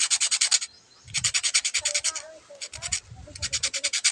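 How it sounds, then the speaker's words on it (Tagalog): Sandpaper is rubbed quickly back and forth over a washing machine shaft holder part, giving bursts of rapid, rhythmic scratchy strokes separated by short pauses, with dull knocks underneath. "Ihagod niya natin siya sa liha. So, ilihan na muna natin ng konti ito."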